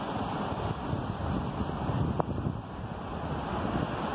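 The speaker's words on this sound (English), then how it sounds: "We're here at the waterfall in Elsica Park." A waterfall in a country park roars steadily, a broad rushing wash of water mixed with wind buffeting the microphone, loud and continuous from start to finish.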